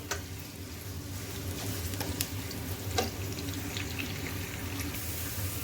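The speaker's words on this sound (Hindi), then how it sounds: "अनियन को फ्राई कर लूँगी मैं, जैसे पुलाव के लिए फ्राई करते हैं ऐसे फ्राई कर लूँगी मैं अनियन को।" Onions frying in a pan for green peas chicken pulao, a steady soft sizzle with occasional stirring clinks, fairly quiet and continuous.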